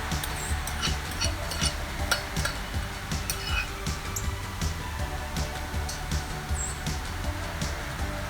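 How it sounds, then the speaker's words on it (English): Broccoli and mixed vegetables are stirred in a pan, giving repeated close scraping and clinking of a utensil against the pan over a low sizzle. The strokes come at an irregular, steady pace. "now you just want to add your broccoli, and you just want to stir everything until it's nice and combined"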